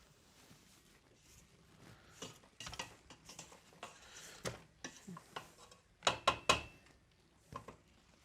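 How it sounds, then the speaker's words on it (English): Spatula scraping and knocking around the sides of a mixing bowl while creaming batter, a series of quiet scrapes and clinks with several sharper taps near the end. "I'm going to go ahead and scrape down the sides of my bowl"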